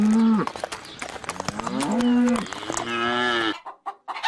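A cow moos in long, loud, drawn-out calls close by, several in a row with brief gaps, the last one breaking off abruptly into near silence.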